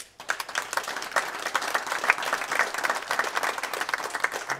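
An audience applauds at an evening presentation talk, a steady burst of many hands clapping close by that carries on throughout, with no talking over it.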